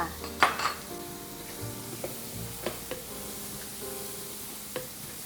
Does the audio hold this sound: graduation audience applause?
no